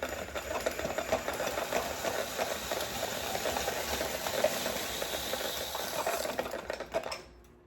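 A hand-cranked apple peeler corer works through an apple with a continuous mechanical whirring and scraping, uneven clicks and rattles over several seconds before it stops.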